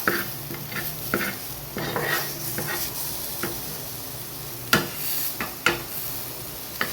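Roasted masala being pushed aside in a pan with a spoon: soft scraping stirs and light clinks of utensil on metal over a faint sizzle, with a few sharper knocks near the end.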